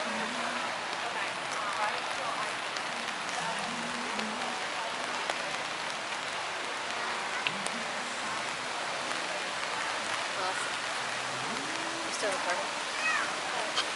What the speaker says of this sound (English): it had to be a rainy day